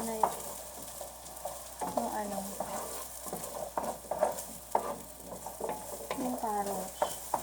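Carrots sautéing in a pan for menudo, with a steady sizzle broken by repeated scraping and stirring strokes and clattering spoon taps, close and alone.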